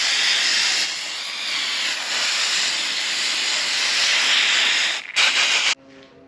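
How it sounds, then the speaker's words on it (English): Brake cleaner is sprayed into a bolt hole on a Honda K24 engine, then blown out, producing a steady, loud aerosol hiss for about five seconds, followed by a short burst of air. "Spray a bit of brake cleaner around the area, in the bolt hole,"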